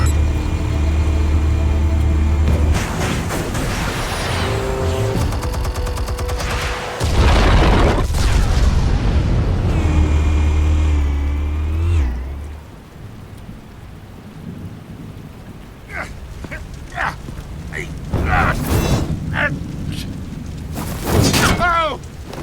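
Explosives detonate in the Batman Telltale video game, Episode 1: loud, sustained booming blasts with deep rumbling for about twelve seconds, then a quieter tail broken by scattered crackles and sharper bursts.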